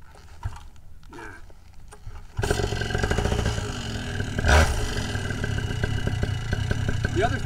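A pull-started engine catches after quieter mechanical clatter, then idles loudly and steadily, with one sharp rev swelling midway before settling back to a rough, even idle.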